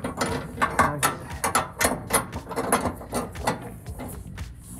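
A hand ratchet removes the nuts from a Barricade Extreme HD grille guard on a Toyota Tundra, making rapid bursts of close, crisp clicking strokes with short pauses between them that fade out near the end.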